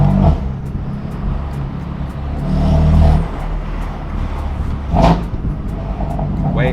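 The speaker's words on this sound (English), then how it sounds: "this car is so loud it sounds like a natural disaster" A straight-piped BMW M4 exhaust rumbles loudly and deeply while driving, swelling into two revving surges, with someone speaking over the engine.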